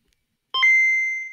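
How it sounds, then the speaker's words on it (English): A retro Game Boy handheld powers on with a short click followed by a bright, clean electronic beep that rings for about a second and fades, heard alone in silence. "That's a nostalgic beep right there."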